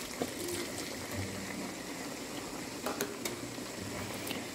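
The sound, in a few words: a cup of water added to cooking meat in a pot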